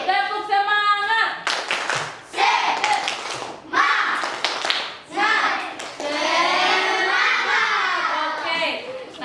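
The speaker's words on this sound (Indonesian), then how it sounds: "Coba tepuk semangat." Schoolchildren in a classroom perform a rhythmic clap chant led by a teacher, sharp bursts of hand claps alternating with sung and spoken voices in a quick, patterned call-and-response.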